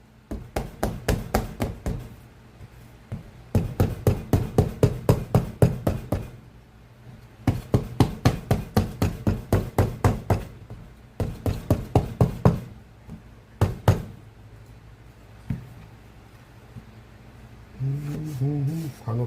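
Food is pounded to split it open in a home kitchen: loud, close, rapid knocking strikes come in several rhythmic bursts separated by short pauses.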